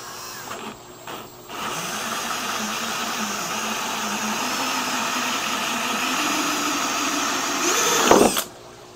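A power drill runs steadily for several seconds while cutting a bulkhead hole in a 240-gallon tank. The whine holds fairly even, rising slightly in pitch, before winding down and stopping abruptly.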